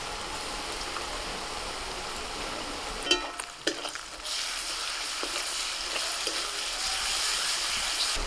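Ginger-garlic paste fries in hot oil with half-fried onions, green chillies and salt, giving a steady close sizzle with a few sharp stirring scrapes partway through.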